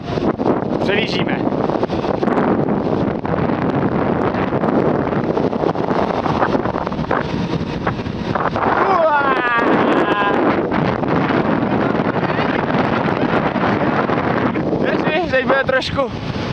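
Strong wind roars across the microphone during a fast downhill ride on a mountain road in Slovenia, a constant loud rushing, with brief voices breaking through now and then.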